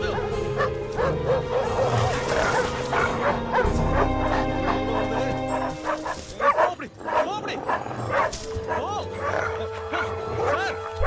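Many dogs bark, yip and whimper together in a Tamil horror film, a dense overlapping chorus that goes on throughout, with voices and tense background music mixed in.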